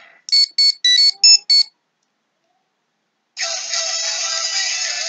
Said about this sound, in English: you get the theme song, like all the legacy items